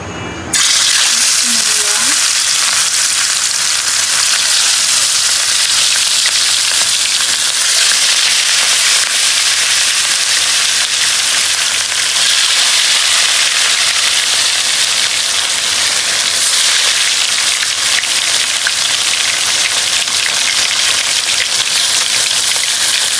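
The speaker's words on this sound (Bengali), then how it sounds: "তেলটাও গরম হয়ে গেছে, এখন আমি মাছগুলো দিয়ে দিব সুন্দর করে" Fish sizzling and crackling steadily in hot oil in a home kitchen, a dense bright frying hiss that runs close and loud throughout after a brief start.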